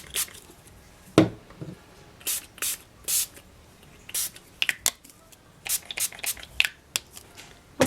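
Glimmer Mist spray paint hisses onto a stencil background in short bursts, a dozen or so quick close sprays of uneven length with brief pauses between them.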